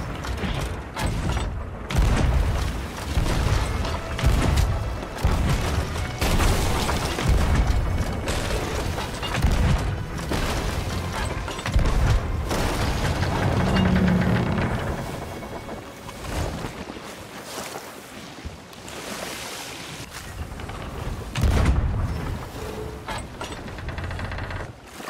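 Cannon fire from ships in Sea of Thieves sounds as deep, repeated booms amid a busy mix of creaking mechanisms, ratcheting and ocean waves, with the heavy thumps recurring unevenly through a loud naval battle.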